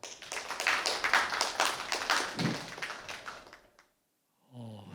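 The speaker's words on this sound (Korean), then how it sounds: "큰 박수 부탁드립니다." Audience applause at an academic symposium on Korea–China modern art history: a dense burst of many hands clapping for about four seconds, fading out into silence before a voice begins at the end.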